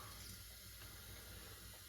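Tap water runs steadily into a sink in a winter setting, a faint, even hiss with no break throughout.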